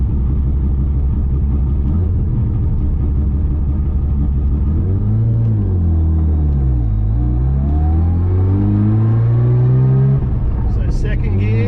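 A Mazda RX7 accelerates hard on a straight stretch of freeway, its loud rotary engine rising in pitch through a gear, dipping at the shift and then climbing again, heard close from inside the car.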